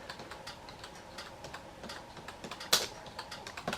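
Typing on the keyboard of an InnovACE Black&White 310 laptop running Windows 95: a quick, irregular patter of close plastic key clicks with one sharper, louder clack partway through and no speech.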